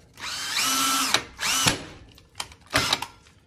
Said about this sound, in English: I'm gonna go ahead and just start drilling the next few of them.